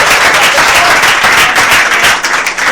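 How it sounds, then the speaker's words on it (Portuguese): Applause fills a church service as a congregation claps steadily and densely, loud and continuous throughout, with no voices rising above it. "As palmas louvam o Senhor mais uma vez."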